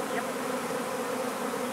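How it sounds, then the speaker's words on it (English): A swarm of honeybees flies through the air, filling the space with a dense, continuous buzzing drone. "A lot of bees in the air."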